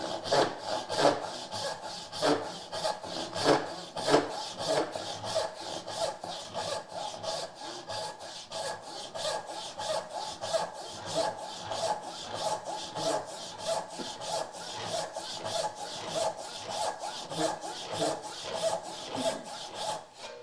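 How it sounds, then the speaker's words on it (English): A hand saw cuts a dovetail in wood, with long, rhythmic back-and-forth rasping strokes repeating steadily for about twenty seconds, close and moderately loud. "So if we were going to try to cut a dovetail"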